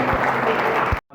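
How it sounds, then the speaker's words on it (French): Brief burst of audience applause at a political party national council meeting, a dense patter of many hands lasting about a second before cutting off abruptly. "allez applaudir d'abord"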